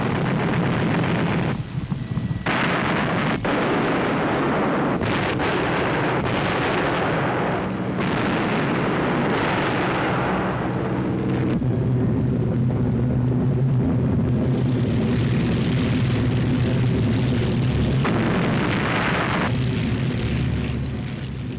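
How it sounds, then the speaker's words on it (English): Anti-aircraft guns on the German battleship Tirpitz fire during an air attack while bombs explode around the ship, a loud, continuous barrage of booming blasts and rumbling for the whole stretch. "As the aircraft went into attack, all the guns of the great ship blazed away"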